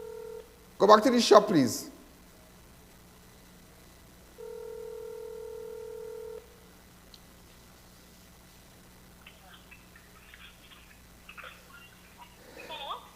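A phone handset gives a brief burst of dialing tones, then a long steady ringing tone sounds, set among a voice speaking nearby and faint background noise.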